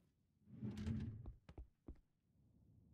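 A drawer opens inside a video game with a wooden sliding rumble followed by a few sharp knocks and clicks, fairly quiet and without talk.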